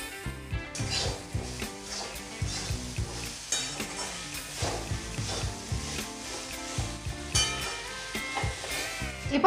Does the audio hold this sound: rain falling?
no